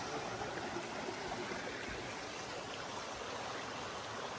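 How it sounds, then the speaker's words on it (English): Eliza Brook tumbling over a small waterfall in the forest, a steady, full rush of flowing water with no break, close by and alone without voices. "This really is like a little magical river that runs through here."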